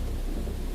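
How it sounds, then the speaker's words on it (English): Stormy sea with thunder rumbling low beneath a steady wash of wind and rain, continuous and dense for under a second with no voices. "the storm howls, the ship groans"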